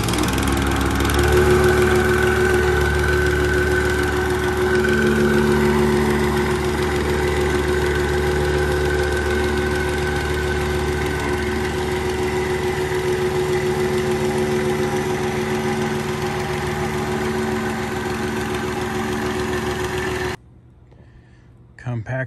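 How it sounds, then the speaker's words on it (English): A rented plate compactor runs steadily while packing the crushed base for an artificial turf install, a loud, continuous engine drone with low vibration that holds for about twenty seconds, then cuts off abruptly. "And we'll rent the compactor next."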